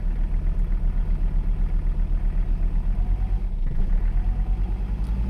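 The diesel engine of a Mercedes 300CD runs at a steady idle, a loud, close, low rumble with an even, rapid pulsing knock throughout, alone without talk.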